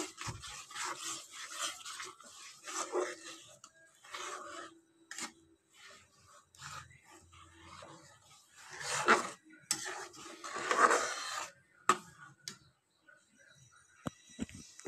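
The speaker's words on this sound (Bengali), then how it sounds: "এবার এটার সঙ্গে ভালো করে মিশিয়ে আঁচটাকে ভালো করে বাড়িয়ে মশলাটাকে কষিয়ে নিতে হবে" A ginger-garlic spice paste is stirred and fried on high heat for a chicken dish, heard as quiet, intermittent scraping strokes of a spoon against the pan with brief pauses between them.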